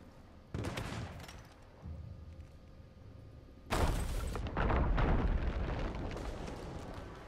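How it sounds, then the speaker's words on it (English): Rumbling explosions and bursts of crackling blasts in the video game Sea of Thieves, a loud boom midway followed by continued roaring detonations, with no talking. "So many explosions."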